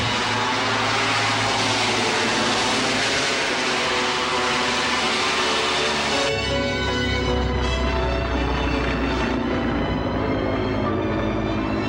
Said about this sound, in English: There has been extensive work done on planes that take off and land vertically.